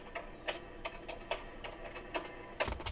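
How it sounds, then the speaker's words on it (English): Computer keyboard typing recorded during a screencast, a quiet, uneven run of light key clicks with a few sharper strokes, steady low background hiss and no voices. "there's a lot of typing here, no narration"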